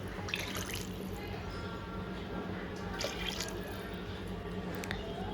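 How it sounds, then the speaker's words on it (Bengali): Water pours into a pan of fish egg curry, a faint continuous trickle and splash under a steady background hiss. "এবারে দিয়ে দিচ্ছি জল।"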